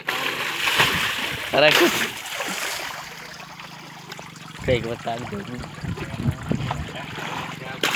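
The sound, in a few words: water splashing while washing a Sonalika DI-740 tractor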